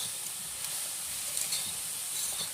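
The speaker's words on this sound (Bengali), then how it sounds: "এখন আমি একটুখানি নাড়াচাড়া করে নেব।" Khesari (koloi) greens frying in a pan as they are stirred, a dense, even hiss of sizzling with faint scraping underneath, close and continuous.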